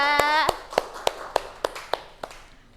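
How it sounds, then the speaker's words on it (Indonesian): A classroom of students claps a brief round of applause for a group, about eight sharp, evenly spaced claps that thin out and fade, with a voice speaking at the start. "kita kasih tepuk tangan untuk kelompok 2."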